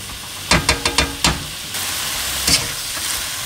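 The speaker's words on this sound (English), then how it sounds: "Basically, you are always stirring your contents around." Shrimp stir-fry sizzling in a wok while being stirred, with a run of sharp scraping clacks from the utensil over a steady close frying hiss.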